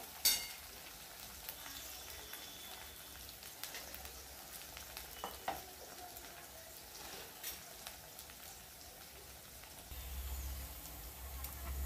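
Onion with ginger garlic paste fries in a pan, a faint, steady low sizzle continuing alone with no talk.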